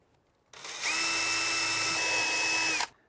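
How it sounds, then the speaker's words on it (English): A power drill pre-drills screw holes while mounting a consumer unit in a camper van, starting with a short burst and then running in one steady, high-pitched whine for about two seconds before stopping cleanly. "Going to pre-drill the holes."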